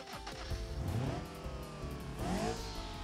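A Gavril Vertex base-model hatchback with a four-cylinder engine in BeamNG Drive, revving up twice in quick rising sweeps, fairly quiet and close, with no speech over it.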